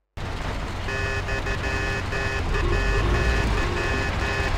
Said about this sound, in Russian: Гудок на К.